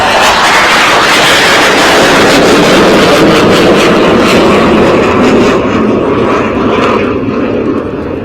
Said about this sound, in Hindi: फाइटर जेट की आवाज।